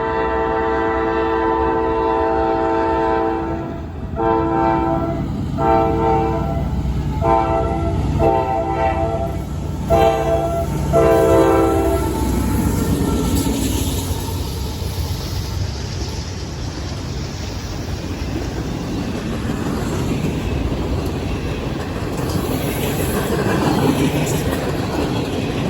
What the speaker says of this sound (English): Number on that train is the CSX L640 blasting by. Short train.